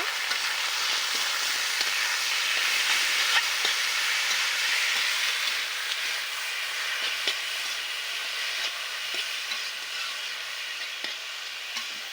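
Potato greens hiss and sizzle in a pan of frying onions during village home cooking, a steady bright crackle with faint scattered pops, moderately close and continuous with no voices.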